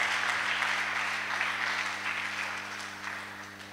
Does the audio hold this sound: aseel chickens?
no